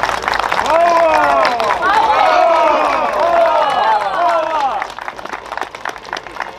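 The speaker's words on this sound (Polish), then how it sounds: "Wielkie brawo dla medyków." A crowd at the Grunwaldzkie Wici 2024 outdoor event in Olsztyn applauds and cheers for medics. The clapping and voices swell loud and steady, then thin out toward the end.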